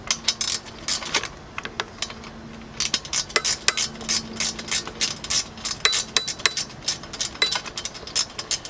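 Ratchet wrench removing a 10mm bolt from the coolant reservoir on a Honda Ruckus scooter: rapid bursts of clicking pawl ratcheting with short pauses, loud and close, with a few light metallic clinks.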